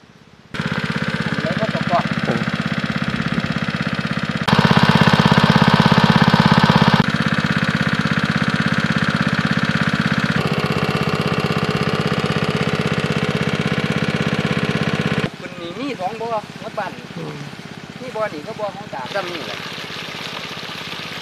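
A water pump engine runs steadily in a dry rice field in Kalasin, a loud mid-pitched drone that continues throughout, with people talking over it during the later part.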